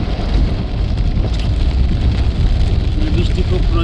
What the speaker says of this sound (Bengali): আজকে যে বৃষ্টি, এটা খুব ভয়ঙ্কর কঠিন বৃষ্টি।